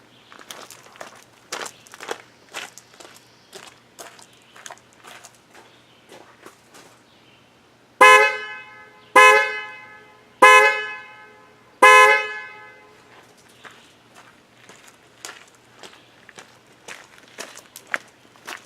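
A 2013 Toyota Highlander's replacement horn honks four times in slow, evenly spaced blasts, with scattered light clicks and footsteps before and after.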